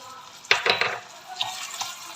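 Butter dropped into freshly caramelized sugar in a pan for a three milk cake sets off a sudden burst of sizzling at about half a second, then a spoon stirs with scraping bursts as the hiss settles, close and moderately loud.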